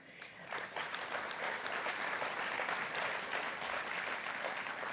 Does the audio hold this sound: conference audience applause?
yes